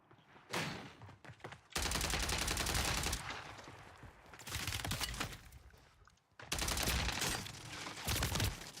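Sustained automatic fire from a Ram 7 rifle in a first-person shooter, long dense bursts broken by short pauses, loud and close.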